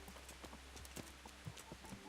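Horse hooves in the video game Kingdom Come: Deliverance, a quiet, steady series of clip-clop footfalls heard alone at low volume.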